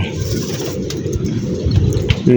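Pigeons coo softly inside a loft, a low murmuring beneath steady background noise, with a clearer throaty coo near the end.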